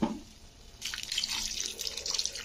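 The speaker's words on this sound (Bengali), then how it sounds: "মিক্সির জারটা ধুয়ে কিন্তু জলটা দিয়ে দিলাম" Water is poured into a rinsed mixer jar for cooking saag chorchori, with a close splashing, gurgling stream for about a second and a half after a soft knock.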